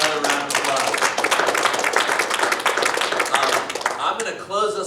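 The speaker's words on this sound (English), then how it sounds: "So let's give him another round of applause." A seated audience gives a speaker another round of applause at a talk on trauma-informed transformation. The clapping is loud and continuous, then fades near the end as a voice begins to speak.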